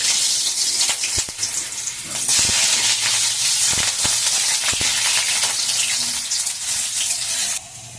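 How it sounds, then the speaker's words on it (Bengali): Potatoes frying lightly in oil in a pan, a loud continuous sizzle and hiss close up with a few stirring scrapes, the sizzle dropping slightly near the end. "আমি আলুটাকে একটু ভেজে নেব হালকা করে।"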